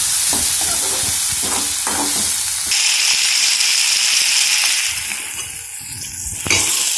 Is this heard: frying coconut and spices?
yes